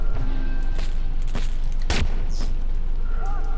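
Gunfire in the Watch Dogs video game, a few sharp shots and one loud crack over a steady din of game background noise, with no talk.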